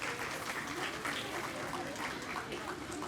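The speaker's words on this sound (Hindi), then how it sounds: "बहुत भरपूर तालियों में इनका इस्तकबाल कीजिए।" Applause welcoming a chief guest at a World Hemophilia Day event, a broad, even wash of clapping from a crowd heard somewhat faintly, with voices mixed in.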